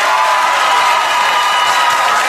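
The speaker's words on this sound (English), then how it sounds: "Applaud." Studio audience at a late-night comedy taping applauding and cheering in a dense, steady wash of clapping and crowd noise, filling the whole moment without pause.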